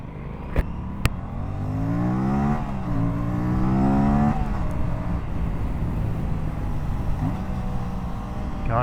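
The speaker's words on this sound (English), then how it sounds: "those manual rev matching downshifts are just a joke" A 2025 Aprilia RS 457 motorcycle engine revs and blips through rev-matched downshifts, the pitch sweeping up and down in close, loud surges over wind noise, with two sharp clicks at the start.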